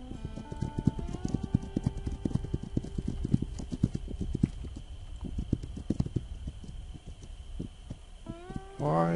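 Horse hooves clip-clop in a quick, even rhythm, close and fairly loud, with a few tonal game-like sounds near the end.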